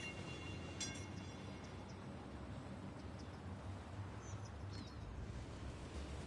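A train rolls along in the city-building game Cities Skylines, a steady rumbling wash of rail noise with a few brief high squeals near the start, heard alone without talk.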